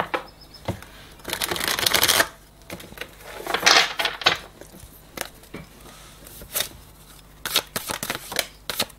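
Tarot-style cards being shuffled and drawn for a card reading: bursts of riffling and flicking paper, sharp slaps and soft scrapes as cards are laid down, close and fairly loud, with no talking.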